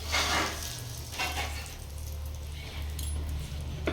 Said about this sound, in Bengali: আমরা হিং দিচ্ছি ফোড়নে